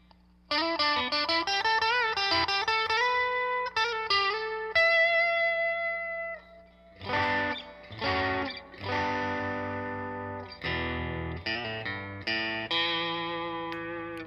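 Hendrix Stratocaster electric guitar on the bridge and middle pickups, played with a clean, slightly chorused tone: a run of quick plucked notes and chords ringing out, with short pauses between phrases.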